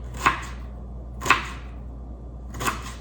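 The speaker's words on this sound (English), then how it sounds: "what I like to do when I'm cutting onions is I like to cut a flat surface" Knife cutting onion on a cutting board in a hotel-room kitchen setup, three sharp, crisp chops spaced about a second apart, close and clean against a quiet background.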